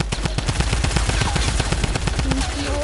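Rapid bursts of automatic gunfire and shots from a PS4 shooter game, loud and dense throughout with a steady clattering rhythm and a faint voice underneath.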